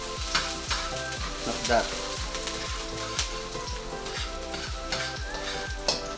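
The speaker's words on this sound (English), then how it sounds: "and your garlic in. Immediately stir it so that it won't burn." Garlic and onions sizzling loudly in a pan while being stirred, with a crackling fry and repeated rhythmic scrapes of a utensil; a voice briefly speaks.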